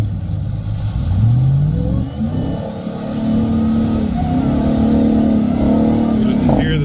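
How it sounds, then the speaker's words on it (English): A supercharged off-road truck engine revs loud and close, its pitch sweeping up and holding high with a whining roar, while voices talk over it. "You just hear the supercharger just ripping it up."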